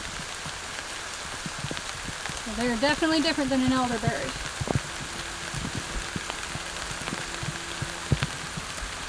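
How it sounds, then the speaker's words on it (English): Steady rain falls on surfaces outdoors while someone examines elderberry plants, a continuous patter running throughout under someone speaking briefly and other scattered sounds. "Getting rained on."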